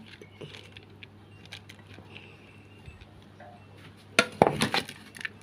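Catfish larb is spooned onto a plate, ending in a quick cluster of bright clinks and scrapes of a spoon against the dish after a few quiet seconds of faint handling.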